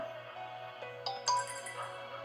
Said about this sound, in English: that notification that just made that noise